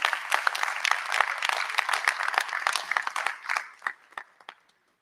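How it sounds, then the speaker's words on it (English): Audience applause at a symposium welcome and keynote, a dense burst of many hands clapping that thins into a few scattered claps and fades out over about five seconds. "Yes, give them a round of applause, please."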